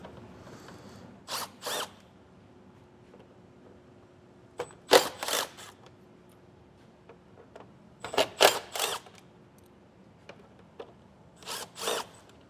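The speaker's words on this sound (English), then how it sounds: "We have 4 T15 torque screws to remove." T15 Torx screws come out under the hood of a 2024 Chevrolet Colorado, with short bursts of a power driver whirring in four separate clusters against a quiet background, and no voices.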